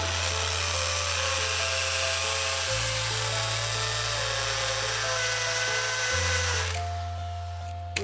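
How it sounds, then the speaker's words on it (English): A power drill whines steadily at close range, its motor pitch shifting as it bores holes into a wall for wall plugs, then winding down near the end. "drill with a smaller drill bit first before going in with the larger drill bit"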